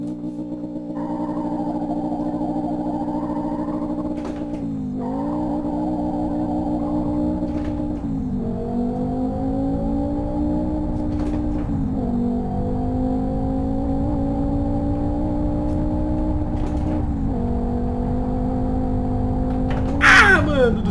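Fiat Marea turbo 2.0 20V engine in the Live for Speed racing game, held at steady high revs in a continuous drone that dips and climbs in stepped shifts, loud and without talk.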